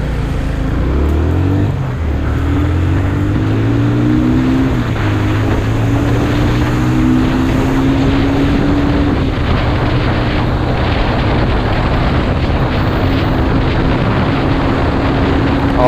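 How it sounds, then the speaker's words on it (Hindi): A Yamaha FZ250 motorcycle runs at top speed, its engine droning loudly and continuously as the pitch climbs through the gears and then holds steady, with heavy wind rush layered over it. "अब मैं चेक करूंगा कि FZ250 की टॉप स्पीड क्या है।"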